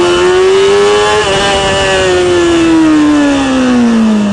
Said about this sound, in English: Take off first gear, open the throttle, front comes up